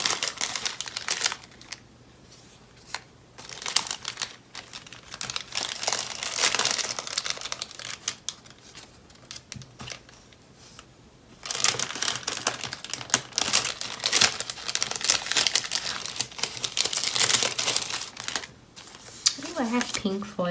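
Crinkly birthday foil packets being rummaged through at close range, with bursts of rustling and crackling that come and go over about twenty seconds, separated by quieter pauses.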